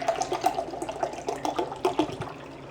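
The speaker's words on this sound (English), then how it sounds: "we are going to add our brine. And we just need 2 cups of water" Water poured from a vessel into a jar of pickling brine, a close, gurgling splash with uneven bursts over a few seconds, heard on its own.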